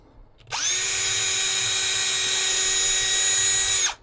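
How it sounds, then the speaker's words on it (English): A power drill whines up after a brief quiet, runs at a steady high pitch for about three seconds, then stops. "let's drill the pilot holes"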